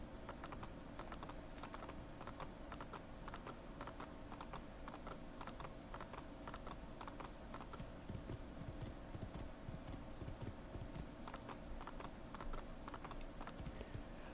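Horse hooves clip-clop steadily in the Assassin's Creed II video game, a continuous rapid trotting rhythm at moderate loudness over a dense game soundscape, with no talking.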